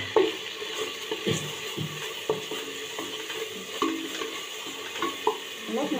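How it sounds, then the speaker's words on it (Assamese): Ground cumin, coriander and chili powder fry in a pan with a little water, sizzling softly while a spoon scrapes and stirs in irregular clinks and strokes. "এইখিনি অলপ ভুনিম।"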